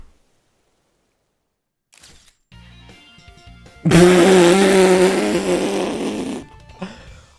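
Camera shutter snapping a photo in a Pokémon video game DLC, a few faint clicks followed by a loud, buzzy, distorted burst lasting about two seconds.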